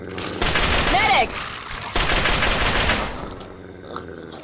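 Laser weapon fire in a Fallout 3 firefight, dense overlapping bursts that swell and fade, with a heavy volley early and another midway before tapering off.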